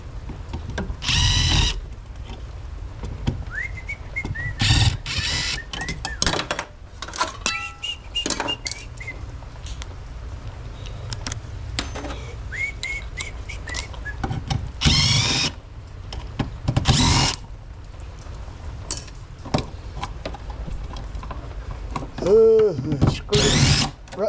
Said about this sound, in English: Screw it right to the stud.